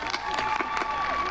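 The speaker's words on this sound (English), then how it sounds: "Please let's share a round of applause for Rupert." Dense clapping from a crowd at a school district diploma graduation ceremony, continuous and fairly loud, with some cheering mixed in.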